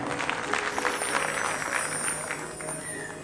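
A theatre audience at a stage performance applauds a guest, a dense continuous patter of clapping throughout, moderately loud and fairly distant.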